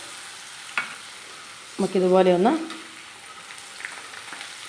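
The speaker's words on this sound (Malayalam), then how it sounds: "ഒന്ന് മൂത്ത് കഴിയുമ്പോൾ ഒന്ന് വറുത്ത് കോരി എടുക്കാവേ." Gram flour boondi batter sizzles softly in hot oil while being fried for a spicy homemade mixture; a quiet steady hiss runs underneath as a voice briefly speaks.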